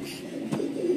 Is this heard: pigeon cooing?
yes